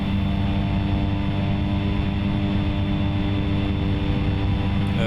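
A propeller airplane in the X-Plane 11 flight simulator: a steady, loud engine drone with strong low tonal hum, continuous and unchanging throughout, with no talk.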